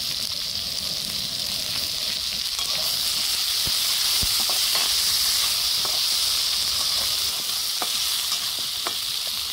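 Potatoes and chopped green chillies sizzle steadily in a hot frying pan, a constant loud frying hiss with occasional stirring clicks and taps, no voices.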